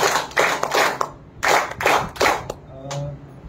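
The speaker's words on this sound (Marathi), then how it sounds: "आपण फक्त 3 टाळ्या वाजून आपण त्याचं हे करूया" Three bursts of audience clapping at a small evening gathering, each a short loud volley of hands separated by brief pauses, followed by faint scattered claps and a low hum of the room.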